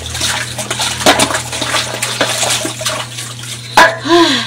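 Water running from a tap while dishes are washed in a home kitchen, a steady wash of splashing with occasional clinks and louder splashes, close by.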